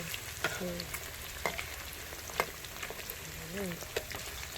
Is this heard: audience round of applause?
no